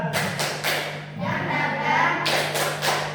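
A group claps in a loose rhythmic pattern, several claps in quick succession, then a pause and more clapping, close and loud.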